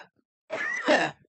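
A single short, rough cough or throat-clearing from a man nearby, one harsh burst lasting about a second after a brief silence.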